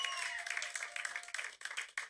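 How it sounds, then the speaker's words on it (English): A packed theater crowd of about 2,500 at a live comedy show claps in a brisk, continuous wash of applause, heard from a distance and fairly faint. "So give yourselves a real big round of applause."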